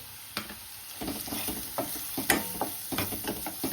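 Chopped onions and homemade masala sizzle and crackle in an oiled pan, with brief scraping clatters from stirring heard close and fairly quiet.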